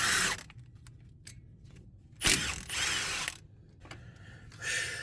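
A hand ratchet clicks as it loosens the brake caliper bolt on a 2018 vehicle during a brake pad replacement, giving short close bursts of rapid mechanical clicking separated by quiet gaps.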